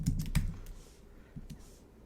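Typing on a computer keyboard: a few quick clustered clicks near the start, then scattered lighter keystrokes over a low background hum, fairly close and moderately loud.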